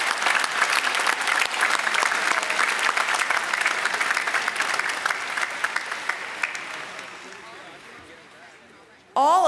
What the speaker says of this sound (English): Please join me in a round of applause for the class of